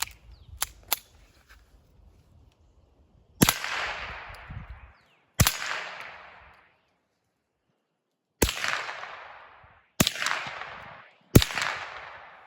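Suppressed Beretta 71 pistol firing Federal Punch self-defense rounds, a titanium-colored bullet loaded at a stated 1070 feet per second: five sharp, loud cracks spaced a second or two apart, each trailing a brief decay, with quiet handling before the first.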